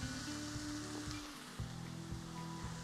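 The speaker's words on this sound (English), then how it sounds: "into that I will put one chopped onion" Chopped onion frying in hot vegetable oil in a pan, giving a steady close sizzle throughout with faint stirring scrapes and no voices.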